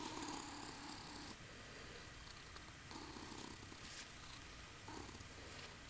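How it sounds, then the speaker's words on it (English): A Ragdoll kitten purrs softly and continuously close up, a steady low rumbling rhythm with gentle breathing cycles, no voices over it. "You purring?"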